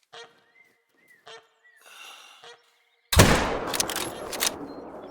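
A single loud rifle shot in the hunting video game theHunter: Call of the Wild cracks out after quiet ambient bird calls, followed by a ringing, echoing tail that fades slowly.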